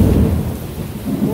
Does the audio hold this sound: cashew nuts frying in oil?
no